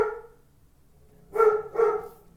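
A puppy barks twice in quick succession, fairly close and moderately loud, after a stretch of low steady indoor noise with no talking.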